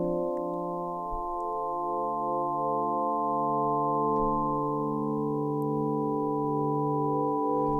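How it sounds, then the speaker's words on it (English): An Omnisphere synthesizer pad built from sine waves holds a steady, glassy chord of pure sustained tones, smooth and unchanging, with no voices. "we've already got that really delicate, glassy sine wave kind of sound"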